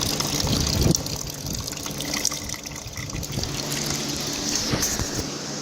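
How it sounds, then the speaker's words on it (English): Coolant mixed with flushing water draining from the radiator of a Chrysler 300M through the opened petcock, a steady, fairly loud gushing and splashing stream that runs throughout with a few clanks, no talking. "So now that we're draining the radiator, we filled it up with water a couple times"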